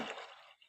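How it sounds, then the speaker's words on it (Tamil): Water pours into a cooking pot of raw rice and moong dal for venpongal, a short, soft rushing splash that quickly fades out. "அதில் தண்ணி ஊற்றிடலாம்"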